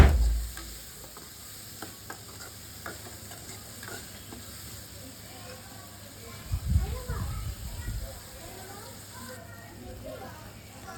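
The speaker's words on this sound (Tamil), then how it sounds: "இதெல்லாம் சேர்த்து வந்து வதக்கிக்கோங்க நல்லா" Vegetables for a beans sambar sautéing in a pan, a low sizzle with scattered stirring scrapes and a louder burst of spoon-on-pan activity midway, while a person talks at times.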